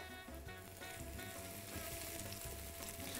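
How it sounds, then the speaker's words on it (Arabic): White onion frying in a pan after garlic, a steady close sizzle with faint stirring scrapes and no voices. "منضيف البصل بعد الثوم كمان لأنه البصل لازم يستوي"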